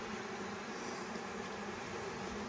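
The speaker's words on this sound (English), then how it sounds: "Now again, we've got bees here in the front." Honey bees drone steadily at the front of a hive, a dense, continuous buzz with no pauses, close and fairly loud.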